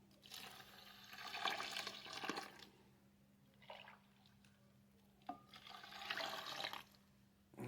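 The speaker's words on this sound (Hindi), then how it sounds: "अभी कुछ और पानी डालेंगे इसमें।" Water is poured into a white oil foaming agent mixture being made for detergent and soap, giving several separate bursts of splashing and pouring with quiet pauses between them, fairly faint and close, with no talking.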